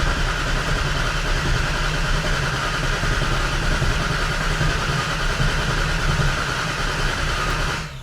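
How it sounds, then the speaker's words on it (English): Ford Fairmont hot rod engine cranking over on a winter day, a continuous loud droning churn that holds steady for several seconds before cutting off at the end, heard alone without talk. "So as I'm cranking now, I'm just going to crank it and keep an eye on my oil pressure until I have some."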